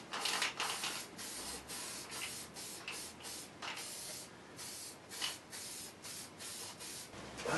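Close, hissing bursts of an aerosol can spraying weld-through primer, several short sprays in an uneven rhythm with brief pauses between them.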